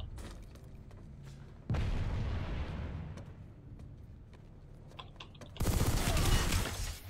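Shotgun fire in the video game Planetside 2: two heavy blasts, each a sudden booming burst that rolls off, set against faint background battle noise and keyboard-like clicks.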